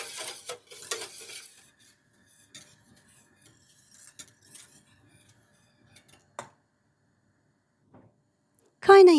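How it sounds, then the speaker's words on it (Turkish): Flour and water stirred in a pot with a utensil, a few brief scraping and clinking strokes near the start and middle with long quiet gaps between, closing with a louder clatter. "Ocağa alalım ve kaynayana kadar karıştıralım."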